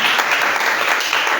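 A dense burst of enthusiastic applause fills a church worship service as the congregation claps in acclaim, loud and close, a continuous crackle of many hands.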